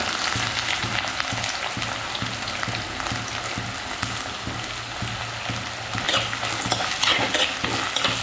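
Sliced onions sizzle and crackle in a little hot oil with fenugreek seeds in a pan for a Kerala fish curry, a steady close frying hiss with stirring scrapes that grow busier near the end; nobody speaks.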